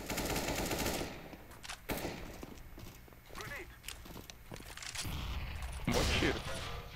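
Counter-Strike: Global Offensive competitive match gunfire: sharp bursts of shots crack out near the start and again later, separated by footsteps and scraping game sounds, with a player's voice talking over the action.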